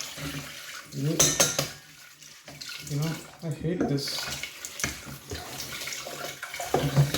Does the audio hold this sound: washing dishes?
yes